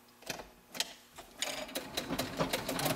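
A sewing machine stitches a pant hem in quick, close runs of rhythmic mechanical clatter that starts haltingly, then settles into a steady stitching pace.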